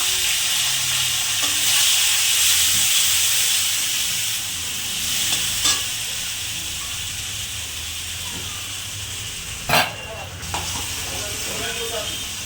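Sliced onions frying in oil with cumin seeds, dried red chilies and bay leaf make a loud, steady sizzle and hiss that eases gradually, broken by a couple of sharp clatters from a utensil against the pan.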